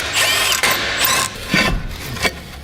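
A wrench works on 13mm subframe bolts in a Volkswagen wheel well, giving several short metallic ratcheting and scraping bursts, close and fairly loud.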